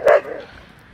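A pet dog on a walk through Ang Mo Kio Park lets out a single short, sharp bark close by, fading quickly into quiet.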